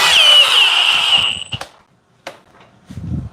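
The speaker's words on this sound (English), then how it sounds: "but the drill will drive it." A power drill drives a screw fully into wood, whining loudly and steadily for over a second before stopping, followed by a couple of sharp knocks and handling clatter.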